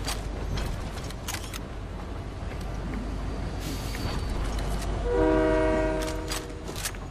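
Moving train in the Fortnite video game, a steady rumbling roll with a sustained horn-like tone near the end, under scattered clicks and game effects.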